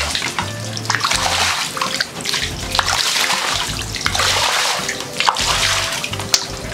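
Floodwater inside a house after heavy rain, sloshing and draining in rough, repeated surges of splashing and running water, loud and close with no talk.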